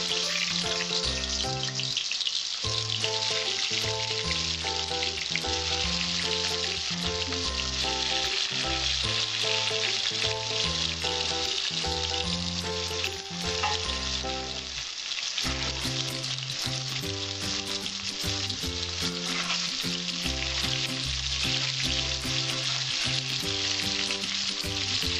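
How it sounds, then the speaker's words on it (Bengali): Potatoes rubbed with salt and turmeric fry in hot oil, making a loud, continuous sizzle that runs beneath steady background music. "নুন হলুদ মেখে আলুটা আমি লাল লাল করে ভেজে নেব"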